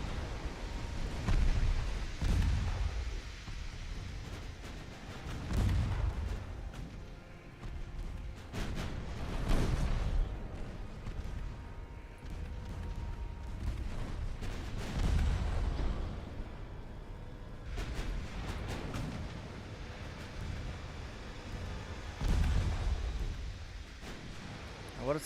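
Heavy naval gunfire and shell hits from a pre-dreadnought-style battleship in Ultimate Admiral Dreadnoughts, a steady rumbling barrage of deep booms every few seconds over low roaring sea and engine noise, with someone talking over it.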